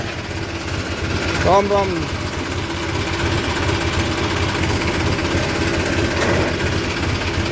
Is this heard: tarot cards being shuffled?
no